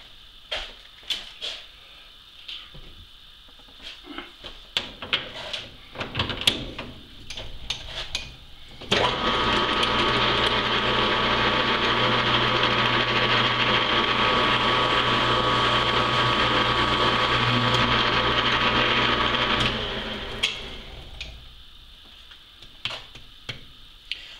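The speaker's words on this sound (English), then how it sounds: "I'm just going to put a chamfer on here." A metal lathe cuts a chamfer on a metal oil pressure adapter in a home workshop, a steady whirring run of about ten seconds framed by clicks and handling clatter before and after.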